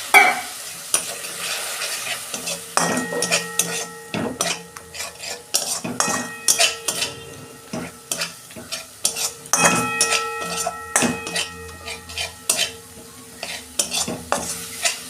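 Spices with ground cumin and a splash of water sizzle in a pan for a quick homemade ghugni while a utensil stirs and scrapes in steady repeated strokes, with metallic clinks against the pan and no talking.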